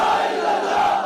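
Large crowd at a Saad Hussain Rizvi rally roaring a chanted response to a slogan, a dense sustained wall of many voices shouting together.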